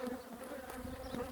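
Honeybees around two beehives: a dense, steady, close buzzing hum of many insects, brief and without talk.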